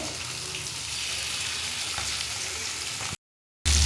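Rava-coated coastal fish frying on a hot tawa gives a steady, close, dense sizzle that holds for about three seconds, drops briefly to silence, then comes back loud.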